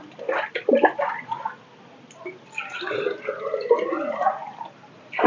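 Water splashes and gurgles as it is poured into a small jar to mix a vineyard spray, close by, with a short pause between pours.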